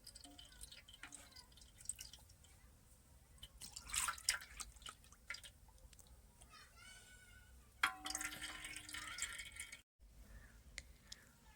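Wheat paste for kurdai being strained through cloth drips and trickles softly and close, with scattered wet drops and squishy pressing sounds, quiet throughout.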